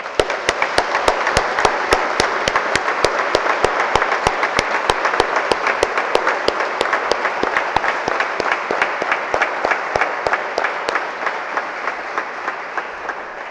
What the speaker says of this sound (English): giving a thunderous applause